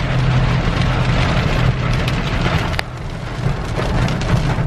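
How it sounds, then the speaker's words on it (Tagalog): Heavy rain pours in a loud, continuous downpour on hard surfaces, with scattered sharp drips and taps through the steady roar. "Lakas pa ng ulan na naman."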